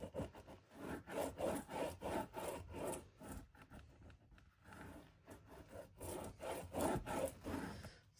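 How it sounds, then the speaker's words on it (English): A book cover is burnished by hand, steady back-and-forth rubbing strokes in a quick regular rhythm, close and soft, pausing briefly midway before the rubbing resumes. "And give all of that a really good burnish."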